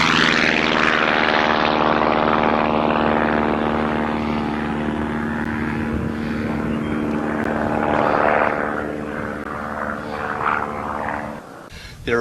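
A propeller airplane flying a lazy 8 maneuver drones loudly with a steady harmonic engine buzz that gradually fades and shifts over about twelve seconds, ending abruptly.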